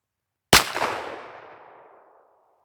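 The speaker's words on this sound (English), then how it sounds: "let's, for the sake of it, back it out to 25 yards, and we'll shoot at that bottom right circle down there" A single loud shotgun blast firing a Hornady Critical Defense .410 shell at a target 25 yards away, sharp and close, followed by a long echoing decay that fades out over roughly two seconds.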